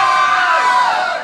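Punk gig crowd roaring a loud collective shout of hello, a dense, sustained cheer of many voices at close range that swells briefly and then fades.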